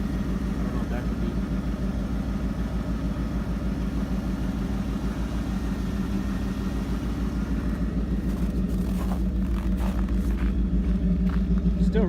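An old Ford F250 truck with exhaust stacks sits idling, its steady low engine rumble continuous and close throughout, with faint talk underneath.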